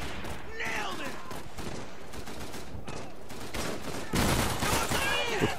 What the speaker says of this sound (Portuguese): os caras jogaram a granada aqui dentro